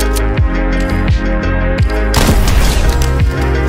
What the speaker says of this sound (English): simply take the sniper on the left of you and snipe the bots to gain a bunch of XP